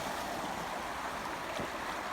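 Swift floodwater rushing across a partially flooded pasture after heavy rain, a steady broadband wash of flowing water with a brief splash partway through, close and continuous with no talking.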